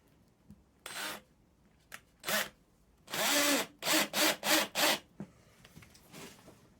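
A power drill drives the stock screws into a pickguard on a Squier Bullet Mustang guitar, several short whirring bursts in quick succession, close and fairly loud, with no talking.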